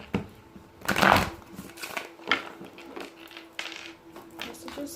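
A deck of cards is shuffled close by in a quiet room, a few quick riffling and tapping bursts with one louder flurry near the start, no talking.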